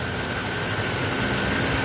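A Chevy Monte Carlo engine runs steadily during a pressure check after a coolant elbow replacement, a constant idling drone with a steady high whine, even in level and nearby, with no talk.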